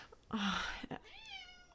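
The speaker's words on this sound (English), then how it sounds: "if you hear my cat, he's being very vocal today" A cat meows indoors, one drawn-out, fairly faint cry followed by a shorter, rising second meow, with no talking over it.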